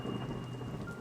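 Steady rain falls with rumbling thunder underneath, a dense, continuous wash of drops that stays loud and even throughout, with no voices.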